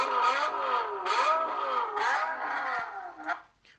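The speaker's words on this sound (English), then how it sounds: "Roared his engine as he pushed the push to start button" A car engine revs up and down in several rising and falling surges, close and fairly loud, then fades as it settles.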